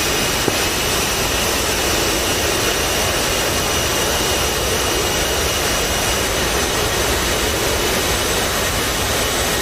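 F-16 Falcon jets taking off in the DCS World flight game, Nevada Red Flag setting: a steady, loud broadband jet roar with a faint high whine, continuous throughout with no talk.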